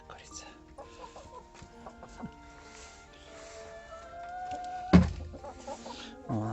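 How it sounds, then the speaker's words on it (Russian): A hen clucks softly in a backyard coop in winter, with a louder sharp squawk near the end and other fowl faintly around; a voice talks quietly. "Ну что, хорошая моя курица."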